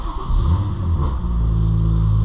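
A BMW M2 with a full Valvetronic Designs exhaust idles after a cold start, a loud, steady low rumble with a brief swell early on, heard from inside the car.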